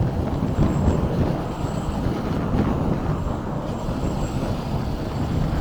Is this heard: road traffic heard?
yes